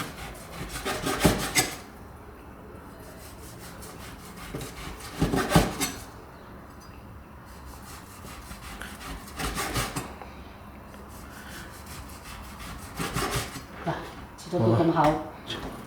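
A knife cuts thick slices from pork belly on a wooden board, repeated scraping, chopping strokes in bursts every few seconds, fairly quiet, with kitchen clatter in between.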